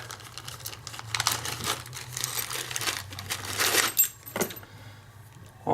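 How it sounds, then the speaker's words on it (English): Rustling and crinkling while a package holding challenge locks is opened, with plastic crackles, tearing and a jingle of metal near the end, close and intermittent. "Oh, a little rustling"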